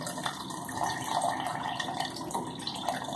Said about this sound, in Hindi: और इसके अंदर हम जो है वो चिल पानी डालेंगे